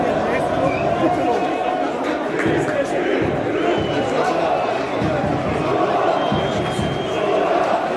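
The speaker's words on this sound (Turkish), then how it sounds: "Solova, Solova sesleriyle inliyor Amasya Spor" Football supporters of Suluova Sebatspor chant in a stadium during a promotion match against Merzifonspor, a dense roaring crowd with a continuous rhythmic murmur and shouting voices throughout.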